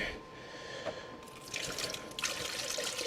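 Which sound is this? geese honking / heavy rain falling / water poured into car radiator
water poured into car radiator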